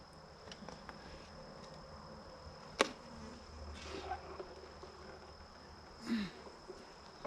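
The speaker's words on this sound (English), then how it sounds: "There's some bees underneath there." Honey bees buzz faintly in an opened beehive during a hive inspection, with a soft continuous hum broken by a couple of sharp knocks from handling the hive.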